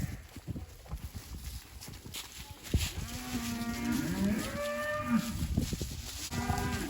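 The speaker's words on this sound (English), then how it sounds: "Cattle, you can hear, are not happy about this." Cattle moo loudly and repeatedly on a farm, sounding unhappy, with long sustained low bellows overlapping near and far amid hoof shuffling and background farm noise.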